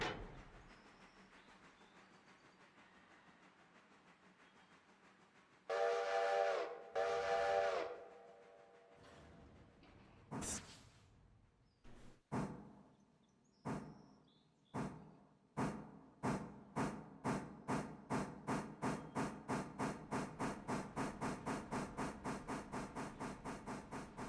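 A railroad boxcar begins to roll on a slight downgrade, its wheels clacking over rail joints in a steady rhythm that grows louder and quicker, after a brief burst of hissing and screeching metal.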